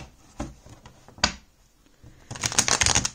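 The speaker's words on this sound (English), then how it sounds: "I'm going to shuffle one more time" A tarot deck being shuffled by hand, a few sharp riffling bursts early on, then a longer, louder flurry of card flicks and slaps near the end, close and without talk.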